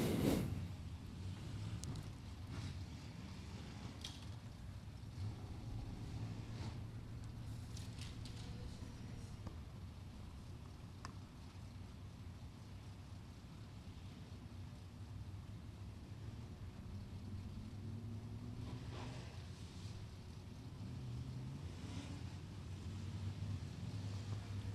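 Race cars of the Elite Racing Series turn hot laps at Natural Bridge Speedway, a steady low engine roar washing around the track for the whole stretch with wind buffeting the microphone.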